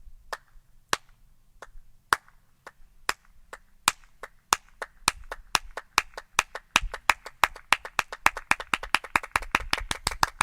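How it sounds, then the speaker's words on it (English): Hands clap sharply, slow and sparse at first, then speeding up into a steady, dense run of loud claps. "go ahead and clap"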